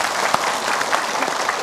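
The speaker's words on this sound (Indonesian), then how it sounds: "Tepuk tangan." Studio audience applause on a religious television talk show, a brief burst of close, dense clapping as a guest is welcomed.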